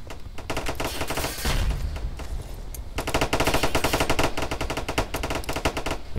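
Anti-aircraft guns fire in the Armor Alley video game as dense, continuous rapid bursts with a brief lull midway, loud and close, with no talk.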